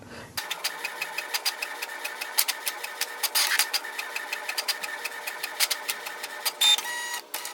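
Canon Pixma TR4522 inkjet printer printing a page: steady mechanical whirring with rapid repeated clicks and ticks as the print head shuttles, fairly close and continuous, no voices.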